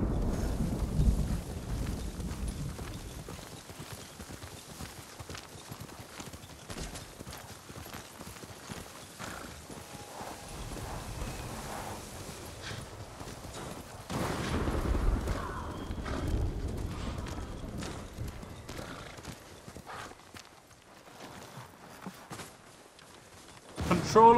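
Horse hooves clip-clop steadily in Ghost of Tsushima, a rhythmic trot over ground with wind noise, fading and returning in intensity, while someone talks intermittently over it.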